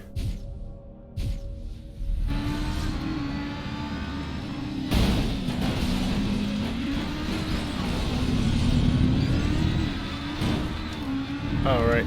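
Race car engine in the Race Driver: Grid video game revving hard and climbing in pitch before an upshift, a loud sustained droning whine with gear-change dips, heard alongside game sounds and no talk.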